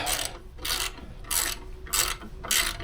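A ratchet wrench loosens a 12 mm alternator locking bolt on a 2000 Subaru Outback, giving five evenly spaced bursts of rapid clicking, close and clear, with quiet gaps between them.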